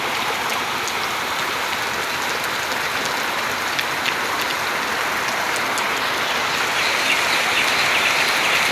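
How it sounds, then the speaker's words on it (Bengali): Heavy, steady rain pours down in a dense, even hiss, with scattered drops pattering nearby and no voices. "ওই যে পড়তেছে পানি, বেদারসে পানি পড়তেছে বৃষ্টি"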